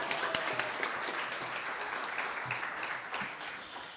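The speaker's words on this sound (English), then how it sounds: "Applause for Lynn, putting up a rock" Audience applause at a lecture event, a dense spread of clapping that carries steadily for several seconds before easing slightly, moderately distant with no voices.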